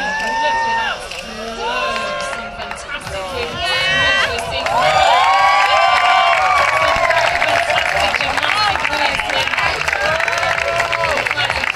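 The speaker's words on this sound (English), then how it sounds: "Great acting up from people in the crowd there." A crowd at a women's bouldering final cheers and shouts, swelling from scattered high-pitched yells into a loud sustained roar with whoops, while a commentator talks over it.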